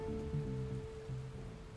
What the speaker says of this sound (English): The rain feels good.